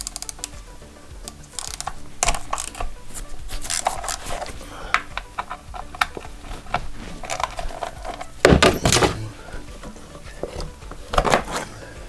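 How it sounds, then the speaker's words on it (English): Close metallic clicking and ratcheting from an 8mm socket on a 1/4-inch drive ratchet loosening the two sump guard bolts on a KTM 350 EXC-F motorbike, with scattered taps and knocks, irregular and brief. "So sump guard off first, 8mm 1/4" drive, 2 bolts to take off."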